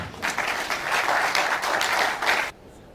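An audience at an international ICT conference opening ceremony claps steadily for about two and a half seconds, a dense, even wash of applause that stops abruptly into quiet room tone.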